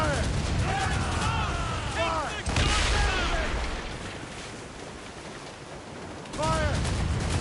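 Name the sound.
ship cannons firing, from video game Assassin's Creed Rogue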